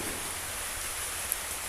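Steady rain falls during an outdoor puja, giving an even, hissing wash of drops on surfaces with no voices and only a faint isolated tap standing out.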